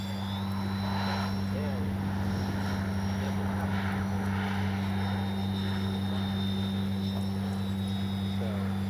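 A Bronco RC model plane flies with AS3X+ stabilization, its electric motor giving a steady drone with a constant whine, heard over steady background noise throughout.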